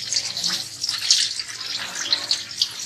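Water trickles and drips onto a potted banana tissue-culture plant, a steady bright splashing patter up close with no voices.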